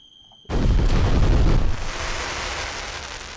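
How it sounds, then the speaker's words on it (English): Fireworks launch in the video game Kerbal Space Program: after near silence, a sudden loud blast erupts into a roaring, crackling burst that fades into a sustained rumble. "Let's launch some fireworks."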